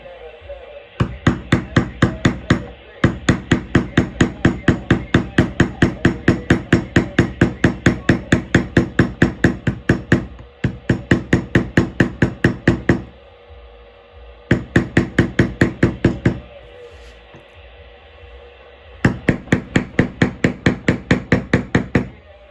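A mallet strikes a beveling tool on leather for a handmade truck center console, giving long runs of rapid, evenly spaced sharp taps that stop for brief pauses and then start again, loud and close.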